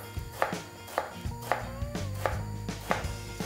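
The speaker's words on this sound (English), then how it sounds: "So you want to cut these into small cubes, which makes it easier for them to cook down faster." A knife chopping food into small cubes on a cutting board while preparing Rummaniyeh, heard as steady, evenly spaced sharp knocks, close and clear with no talking.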